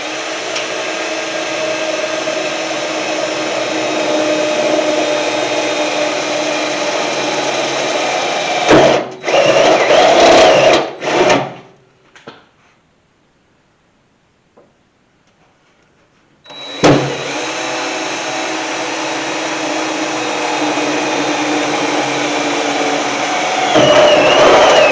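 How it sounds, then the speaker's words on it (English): A power drill whines loudly and steadily, drilling holes in a 1991 Chevy C1500 pickup truck, stopping briefly for a few seconds of near silence before starting up again and running on. "I'm just going to drill these holes."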